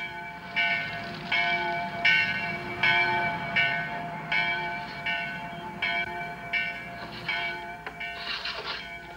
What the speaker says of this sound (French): C'est la cloche de l'église.